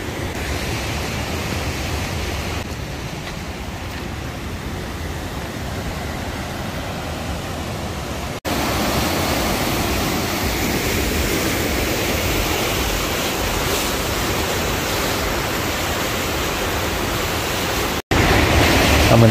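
A park waterfall pours in a steady, close roar of broadband rushing water that holds unbroken and fairly loud throughout, with no voices.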